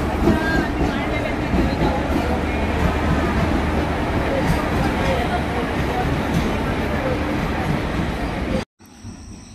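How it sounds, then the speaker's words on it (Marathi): The Netravati passenger train rumbles and clatters steadily close by as it arrives amid crowd babble on a station platform, the noise cutting off abruptly near the end. "तर आता आमची ट्रेन आलेली आहे नेत्रावती"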